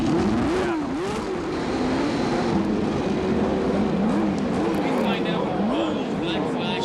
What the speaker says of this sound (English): So the drivers now in their cars, engines started